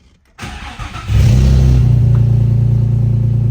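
Close by, a Nissan Z drift car engine with an exhaust leak cranks briefly, catches, and settles into a loud, deep, steady idle.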